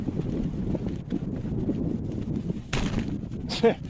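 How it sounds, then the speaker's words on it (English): Strong wind buffets the microphone in a continuous low rumble in the bush, with sharper gusts near the end. "it's very windy"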